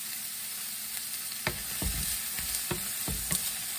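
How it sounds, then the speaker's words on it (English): Garlic and tomatoes frying in a paella pan, a steady low sizzle with a few sharper stirring scrapes and clicks spread across the stretch, no voices. "And then we're gonna let this cook and get just a nice broth."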